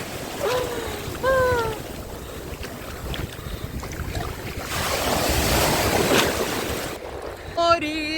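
Black Sea waves wash onto a beach in Odesa in a steady hiss and rumble. Wind buffets the microphone, and brief voices and laughter break through near the start and end.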